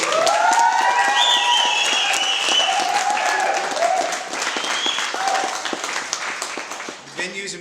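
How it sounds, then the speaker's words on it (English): Wedding guests applaud the bride at a reception in an Old English barn venue, loud sustained clapping from a close crowd that gradually thins out over several seconds, with faint voices mixed in. "one more round of applause for Kyleey"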